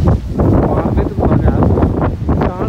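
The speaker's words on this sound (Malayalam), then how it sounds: "നല്ല കാറ്റ് കാണുന്നു." Strong wind at the seaside on the English Channel coast in Kent buffets the microphone in loud rumbling gusts throughout.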